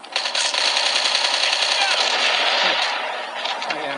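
Rapid automatic gunfire in Call of Duty Mobile, a loud continuous burst of closely spaced shots that fades slightly toward the end, with a faint voice behind it.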